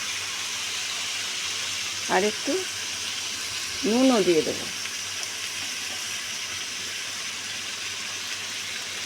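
Potatoes and onions frying in a pan in a home kitchen, a steady soft sizzle that runs throughout beneath a woman's brief speech.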